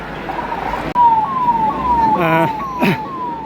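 An ambulance siren sounds loud and close in a street during a police lathi charge, its tone falling step by step over and over, with a short burst of harsher siren noise near the end.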